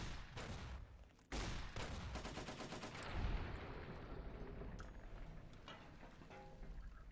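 Shotgun firing Frag 12 explosive rounds in the video game Fallout New Vegas, a sharp loud blast followed by a rapid volley of crackling shots and booming impacts, with no talking.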